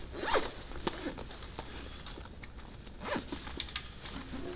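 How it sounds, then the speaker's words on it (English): A zipper is drawn around a sling bag that converts into a duffel bag, closing it the whole way in several close, quick zipping strokes with brief pauses between them. "then zip it back up all the way around one more time."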